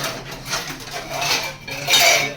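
Metal pots and pans clatter and scrape together in a home kitchen, a continuous jumble of clinks and knocks at close range, without speech.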